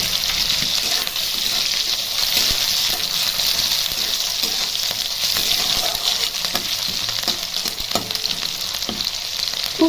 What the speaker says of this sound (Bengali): মা এর সাথে দিয়ে দিচ্ছে গাজর এবং ক্যাপসিকাম। এগুলো খুব সুন্দরভাবে ভেজে নিতে হবে বন্ধুরা